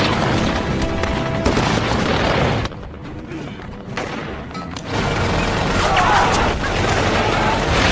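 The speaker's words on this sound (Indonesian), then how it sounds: "Dan Ateng pun diberikan sebuah tembakan perlindungan untuk pergi ke lokasi musuh." Covering gunfire in a war film set in Somalia: dense bursts of shots and booms fill the scene, briefly dropping to a quieter lull before the heavy firing resumes loudly.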